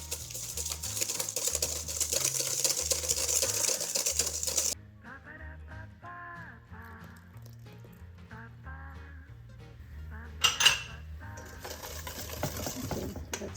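Vanilla sugar is mixed into dough in a bowl for soft Easter bread, with irregular clinks, taps and scraping strokes against the bowl and some background music.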